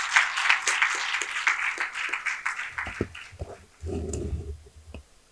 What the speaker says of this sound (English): can we have a big round of applause for Justice Azmaz Saeed?